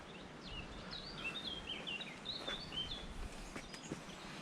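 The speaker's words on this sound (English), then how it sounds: "It's got a good background sound on this walk, isn't it? All the birds." Birds sing in spring meadows beside the River Adur, with faint high chirps and trills scattered over several seconds above a soft, steady outdoor background.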